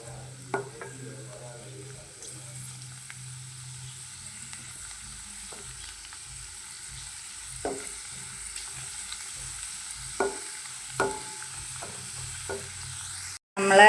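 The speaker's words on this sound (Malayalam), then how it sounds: "ഇഞ്ചി ഇവയെല്ലാം നമ്മൾ ഒന്ന് നന്നായിട്ട് ഇളക്കി അത് ഒരു കിലുകില ശബ്ദം ആകുന്നിടം വരെ ഇങ്ങനെ നല്ലതുപോലെ" Curry leaves and ginger are stirred in a frying pan for a pickle, a faint low sizzle broken by occasional spoon knocks and scrapes against the pan, quiet and sparse, with a sharp clatter at the very end.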